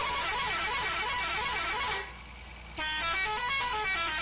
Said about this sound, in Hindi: ओ मिक्स हॉर्न लगा रखा है